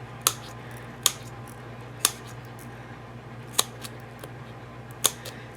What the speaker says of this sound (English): you could cut any kind of foam adhesive that you have